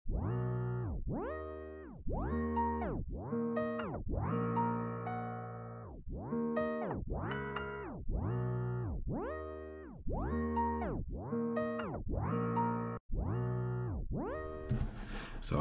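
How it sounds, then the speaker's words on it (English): A music sample flipped in Logic Pro X with a fade and slow-down effect, a repeating series of swooping pitched tones rising and falling in a steady pulse, moderately loud and without talk, ending with a brief noisy burst. "It'll create like this little slow down effect."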